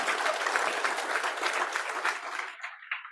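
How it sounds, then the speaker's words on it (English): Audience applause at a state AFL-CIO labor convention, a full burst of clapping that thins out and fades toward the end with a few last claps. "Round of applause for this country."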